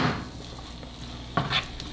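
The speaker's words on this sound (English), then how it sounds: "Now it's starting to sizzle." Food frying in a pan with a steady soft hiss, plus a brief scrape of a utensil near the end, close and fairly quiet.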